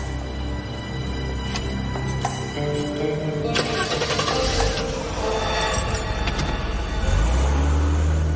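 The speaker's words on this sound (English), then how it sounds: "Start the car, drive." A car engine cranks and catches, then revs steadily with mechanical rattles as the vehicle pulls away, loud and continuous throughout with a deep low rumble swelling near the end.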